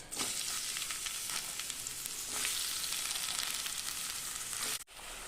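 Onions sizzle in hot oil for biryani, a dense, continuous frying hiss heard close and loud with faint stirring crackles, cutting off abruptly near the end.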